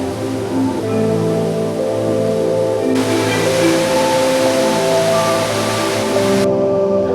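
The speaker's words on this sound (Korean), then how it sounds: "블랙비버 폭포는 유난히 폭우가 내린 후 가장 잘 보인다고 하는데요" Black Beaver waterfall in Agawa Canyon, Ontario, swollen after heavy rain, roars as a steady, loud, close wash of falling water with no talk.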